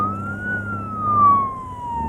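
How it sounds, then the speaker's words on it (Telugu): An ambulance siren sounds nearby as a steady, wavering electronic wail that swells briefly, alone with no voices. "అది పోలీస్ వ్యాన్ కదరా, అంబులెన్స్."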